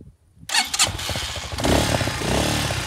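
A Motoland 250 Enduro motorcycle engine fires up after a brief quiet moment, then runs close and loud with a rough, rattly idle that rises slightly as it settles.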